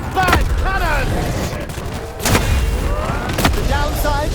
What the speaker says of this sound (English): More fodder for my big bad cannon!